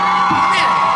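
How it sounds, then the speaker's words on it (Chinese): A concert crowd at an outdoor year-end show at Taipei 101 Water Dance Plaza yells and cheers, a loud burst of whooping voices close by. "尖叫声！"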